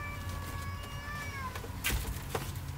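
A cat meows aboard a moored catamaran, a short series of close, rising and falling cries followed by a couple of brief sharper calls, over a steady low background hum.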